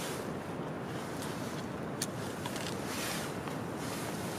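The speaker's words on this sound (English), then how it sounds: "Getting a lot of wind tonight." Steady wind blowing across a campground at night, a broad continuous rushing roar with slight gusts and a brief buffet on the microphone, no voices.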